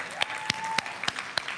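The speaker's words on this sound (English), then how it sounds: "Let's give Chris another round of applause." Sparse clapping from a small church congregation, a handful of distinct claps standing out over a faint murmur, after a musical performance at a worship service.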